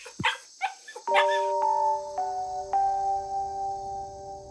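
A puppy gives a few quick yips and barks, then a doorbell chimes and its ringing tones fade away.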